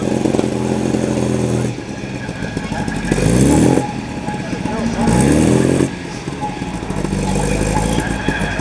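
Classic MGB sports car engine revving as it loads onto a transporter at Oulton Park race circuit, surging in loud bursts of rising revs between steadier idling, with other engine noise around.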